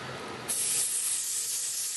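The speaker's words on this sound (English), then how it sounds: "I gotta make sure I'm spraying literally a little bit into my hairline and a little bit into the lace." Hair spray spritzed onto the hairline and lace of a lace-front wig, producing a close, continuous aerosol hiss that starts abruptly and holds steady with nothing else heard.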